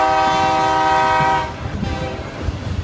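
A train passes in San Antonio, its loud sustained horn blaring for over a second before cutting off, followed by rumbling and clattering of rail cars close by.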